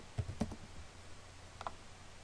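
A computer keyboard is typed on in a quiet room: a quick cluster of soft key clicks, a pause, then a couple more taps, all faint and close.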